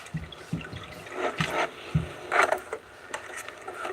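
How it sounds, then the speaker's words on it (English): Water poured from above into an open container, with the lid taken off first, giving a few short splashy gushes and trickles at close range, with no one talking. "Just add a little bit of water. So I just pour some in, take the lid off, pour some in,"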